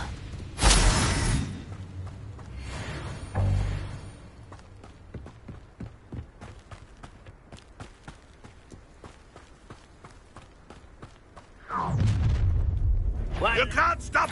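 Incendiary spell blasts in Hogwarts Legacy: a loud fiery burst at the start and another shortly after, then a stretch of crackling clatter and rapid ticking before two more roaring blasts near the end.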